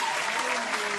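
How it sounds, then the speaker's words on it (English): Audience applause fills the room at a comedy or spoken-word show, a steady, dense wash of clapping heard up close and held at full volume from start to finish without a break. "So make sure we're going to clap it up again"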